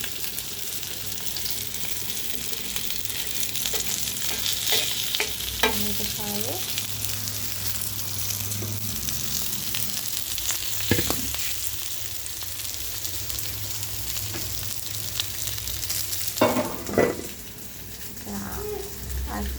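Rohu fish pieces fry hard in hot oil in a pan at home, giving a loud, continuous sizzle and crackle with occasional metallic scraping and stirring, and someone talks over the cooking.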